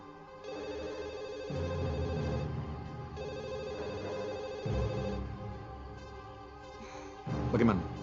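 A telephone rings repeatedly and goes unanswered in an Indonesian TV drama, the bell-like trill recurring in bursts at moderate volume with background tones and a brief sharp sound near the end.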